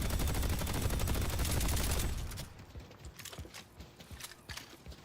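A sentry turret is being built in the video game Deadlock, a loud dense burst of rapid mechanical clatter and ratcheting for about two seconds, followed by quieter scattered clicks and metallic taps.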